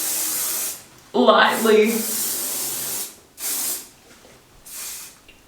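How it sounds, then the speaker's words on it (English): Hairspray hisses from an aerosol can over freshly curled hair in several bursts, each a few seconds long with short pauses between, close and fairly loud, with someone speaking briefly between sprays. "go in with the hairspray"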